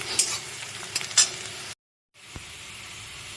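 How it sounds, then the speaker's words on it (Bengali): Soft sizzle of onions frying on low flame with stirring clatter at the start, a brief dead silence, then a quieter steady hiss of cooking in a pan. "হাই ফ্লেমে কিন্তু এটা ভাজবে না লো ফ্লেমে ভাজবে"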